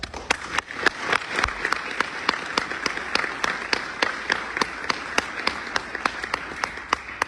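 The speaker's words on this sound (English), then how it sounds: "Please give these graduates another well-deserved round of applause" An audience claps for fire training graduates in steady, sustained applause, with dense overlapping hand claps at moderate loudness and no voices rising above it.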